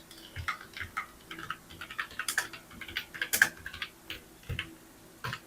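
Computer keyboard typing during a time-tracking software tutorial: irregular clusters of light, close key clicks with a few louder strokes, steady and fairly quiet, no talking.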